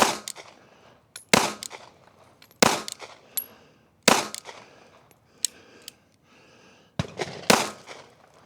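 Gunshots from a pistol fitted with a red dot sight, fired as a 6-shot group: loud, sharp cracks at uneven intervals of about a second, each trailing off in a short echo, with quiet gaps between.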